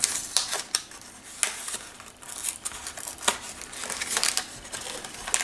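A packet of spices being opened, with crinkly plastic or paper rustling and tearing in short, uneven bursts, close and moderately quiet, with no one talking.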